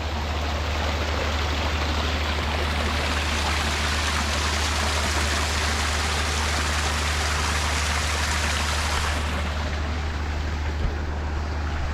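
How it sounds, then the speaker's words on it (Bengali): Water rushes steadily from a resort fountain, a loud, close, continuous roar of flowing and splashing with no pauses and no voices. "এখানে কি সুন্দর একটা ঝর্নার ব্যবস্থা পানির শব্দটা শুনুন জাস্ট"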